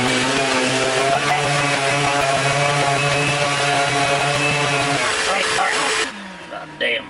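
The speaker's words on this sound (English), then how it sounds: "that's enough damn sanding for now" A power sander works wood in a home workshop, giving a loud, continuous whining buzz for about six seconds before it cuts off and leaves brief quieter handling noises.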